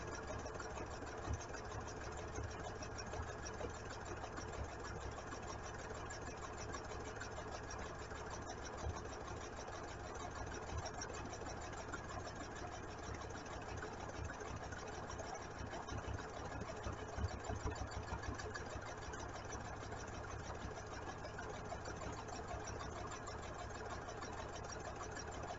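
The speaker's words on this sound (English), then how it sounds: "So I have part of it going up under the machine, so I can just go and stitch along." A sewing machine runs steadily while stitching a t-shirt neckband on the free arm, a continuous fast mechanical whir with a rapid rhythmic needle chatter, fairly quiet and uninterrupted throughout.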